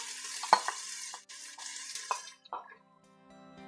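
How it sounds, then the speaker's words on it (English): Diced onion going into a hot pan sets off a bright sizzle, broken by a few short stirring clatters, then fading to a quieter simmer. "Now I'm going to add a diced onion."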